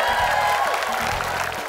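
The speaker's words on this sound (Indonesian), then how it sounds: "Tepuk tangan untuk Mbak Ita, Novi dan juga Mbak Widya." A small group claps on the Super Deal Indonesia TV game show, a short burst of applause that is fairly close and fades slightly toward the end.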